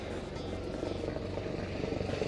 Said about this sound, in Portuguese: o helicóptero está fazendo as manobras para pousar aqui no aeroporto